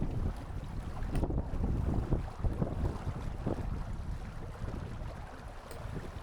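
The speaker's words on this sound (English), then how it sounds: "The light breeze behind us has freshened somewhat." Steady wind rushing past with water sloshing along a moving Shrimper 19 sailboat's hull in a freshening breeze, a constant broadband roar with no voices.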